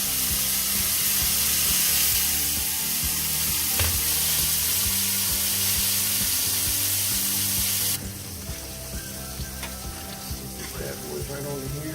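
Shrimp sizzle in hot butter-flavored Crisco shortening, a loud, crackling, continuous fry that drops to a quieter bubbling hiss partway through.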